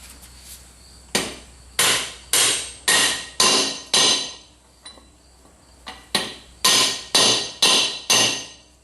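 A bearing on a New Holland 630 baler is driven home with a hammer through a wood block and a socket: about a dozen sharp, loud metallic blows in steady rhythm, with a brief pause midway, no talking.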